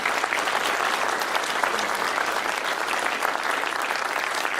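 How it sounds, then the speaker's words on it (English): A crowd at the Tustin State of the City 2014 event breaks into sustained applause, dense and even clapping from many hands held at a steady level for several seconds without speech. "let's give them a round of applause"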